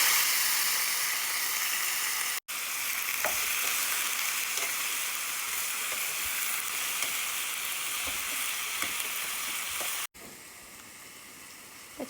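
Potatoes sizzle and fry in hot oil seasoned with asafoetida and turmeric for a Gujarati potato curry. A steady, close crackling hiss runs throughout with occasional stir clicks and two sharp momentary dropouts.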